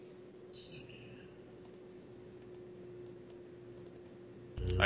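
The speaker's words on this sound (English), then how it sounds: "I hear someone clicking furiously" Rapid clicking from someone's keyboard or mouse during a Dungeons & Dragons tabletop session, a soft flurry of ticks early on over steady room hum, with a louder burst of noise at the end.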